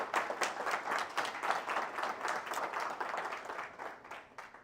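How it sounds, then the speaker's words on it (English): Dense, steady applause from an audience at a curling club's annual meeting, many hands clapping close and continuous with no voices over it. "I want to give you a big round of applause"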